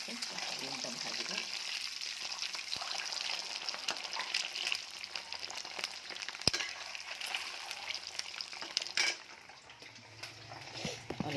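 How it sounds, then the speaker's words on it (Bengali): An egg frying in a pan in a home kitchen, giving a steady broadband sizzle that runs throughout with occasional clinks of utensils; a voice speaks faintly in the background. "ডিমটা ভাজবো।"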